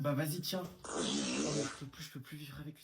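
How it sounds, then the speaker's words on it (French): A loud, drawn-out raspy fart of about a second sits between bits of French conversation, with people talking just before and after it. "t'as pété sur moi"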